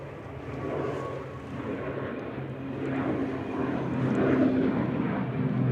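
Irish-registered airliner EI-HDH departs Manchester Airport for Dublin, a steady broadband jet roar at moderate distance that swells gradually toward the end, with no voices.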